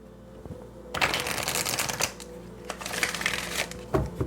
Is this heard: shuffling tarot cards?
yes